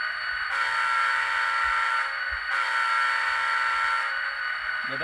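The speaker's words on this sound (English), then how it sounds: "Let's take a listen to the horn." A Union Pacific model train's sound system sounds its horn in two long, steady blasts, each about one and a half seconds, loud and close with no talking.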